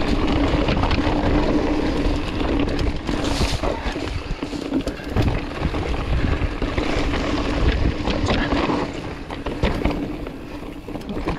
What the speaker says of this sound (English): Breezy through here.